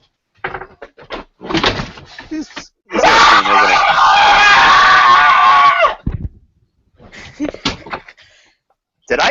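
A loud, sustained scream of about three seconds that rises sharply and cuts off, with brief bursts of talk and noise before and after it.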